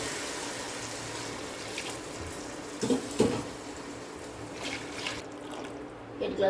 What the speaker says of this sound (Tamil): 8 கிளாஸ் தண்ணி ஊற்றுறேன்.